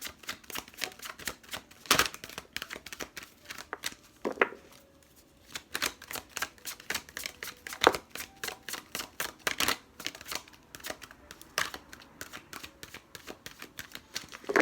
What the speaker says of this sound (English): They're such a large deck that a little challenging to shuffle.